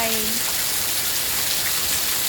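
Heavy early-morning downpour in Buriram, Thailand, with no wind or thunder: a dense, steady hiss of rain hammering surfaces close by, continuous and loud throughout with no voices.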